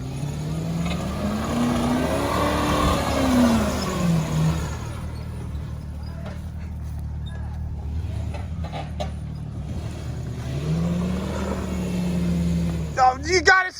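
Engine of the Slick VIC car revving hard while doing donuts, rising and falling in two long swells with a quieter idle between, loud and close, with people talking over it.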